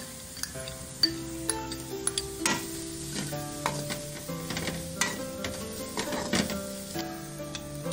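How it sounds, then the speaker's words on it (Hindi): Vegetables for chicken soup are sautéed in a pan, giving a soft sizzle under repeated clinks and scrapes of a spoon stirring against the metal, close by and without talk. "बस इनको हल्का सा हमने 1-2 मिनट के लिए करना है सौते करने, ज़्यादा हमने इनको कुक नहीं करना।"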